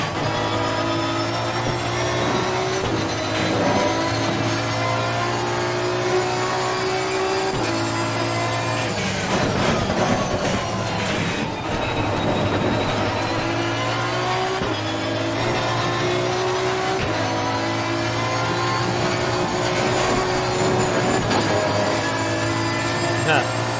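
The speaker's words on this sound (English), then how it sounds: "The car is very loud, you say." A Mazda Miata race car in a racing video game, the engine droning and revving loudly with repeated gear shifts over a long stretch, while a person talks over it.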